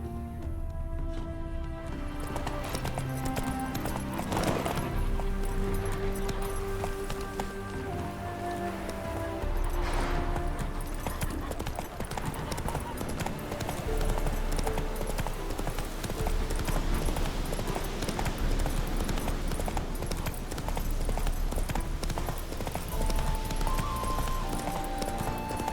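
Horse hooves gallop steadily in The Witcher 3 video game, a fast continuous clip-clop rhythm under ambient music and soft rain-like background for the whole stretch.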